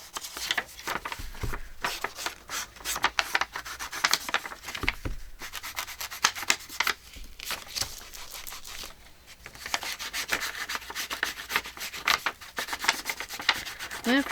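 An ink pad in brown espresso is rubbed around the edges of paper in a junk journal, giving a steady scratchy rubbing and scuffing in repeated short strokes, close and fairly quiet, with no talk.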